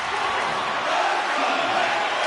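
Crowd cheering in a video-game hockey match: a loud, steady arena roar of many voices sustained throughout, with a faint hint of commentary underneath.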